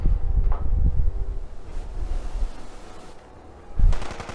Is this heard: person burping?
no